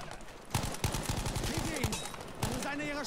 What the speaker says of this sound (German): von links schießt jemand